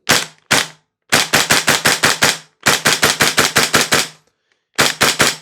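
A KWA Lithgow Arms F90 gas blowback airsoft rifle fires in semi-auto: two single shots, then three quick rapid strings of sharp cracks, about seven or eight each, close and loud with short silent gaps between.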